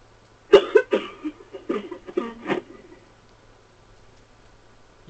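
Several close, harsh coughs during a co-op Left 4 Dead game session, coming in an irregular burst of about five or six hacks over two seconds, then fading into quiet room background.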